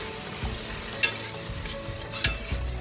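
Tomatoes cooking in oil with coriander powder and garam masala stirred in, giving a constant crackling sizzle broken by a few spoon scrapes and taps against the pan, close up.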